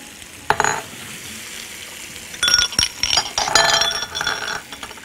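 Onions and peppers frying in a pan with a low steady sizzle, broken by sharp scraping and clattering stirs that come in irregular bursts, close and moderately loud.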